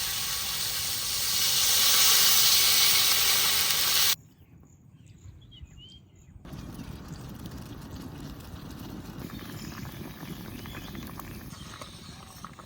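Water poured into a pan of aubergine frying with salt and turmeric on a clay stove, giving a loud broad hiss that drops suddenly, then a steadier bubbling simmer.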